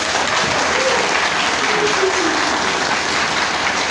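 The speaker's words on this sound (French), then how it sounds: "je vous demande d'applaudir vivement les magistrats de la cour d'appel" An audience at a public gathering in Mali applauds the appeal court magistrates with dense, continuous clapping that stays steady and loud throughout.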